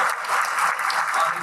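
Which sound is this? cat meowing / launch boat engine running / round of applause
round of applause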